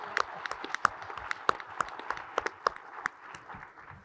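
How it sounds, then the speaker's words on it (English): Audience at a naval cooperation conference clapping for a new NATO member, a moderate steady round of applause with sharp individual claps standing out, fading slightly toward the end. "how about a quick round of applause for our newest NATO member"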